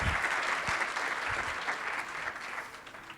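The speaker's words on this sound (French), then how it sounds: "Et des applaudissements mérités." An audience at a food technology conference at an agricultural engineering school applauds, a dense, sustained wash of clapping close by that slowly fades over a few seconds, with no voices over it.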